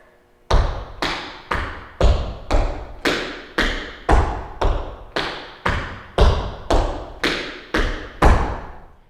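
Tap shoes playing a repeated dig, spank, toe, heel pattern: fourteen evenly spaced, sharp percussive taps with short decays, steady and moderate in tempo, close and clear with no talking.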